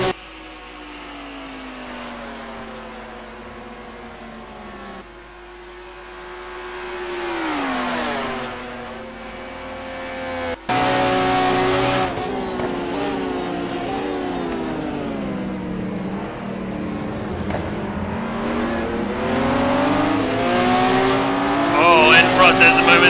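Audi race car in a racing sim game roars at close to 220 km/h, its engine note rising and dropping through gear changes over a loud continuous drone, with a commentator talking over it throughout.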